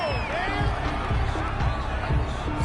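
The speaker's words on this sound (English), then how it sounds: "This home crowd, they're happy with that call." The home crowd at an Eagles–Cowboys football video game match roars and whoops after a referee's call, a loud, steady crowd swell with rising shouts throughout.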